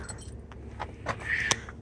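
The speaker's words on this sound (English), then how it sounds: "I see keys down here" Loose keys jingle faintly among the wreck of a 1982 Chevrolet Monte Carlo in a junkyard, with a few light metallic clinks standing out over quiet outdoor background.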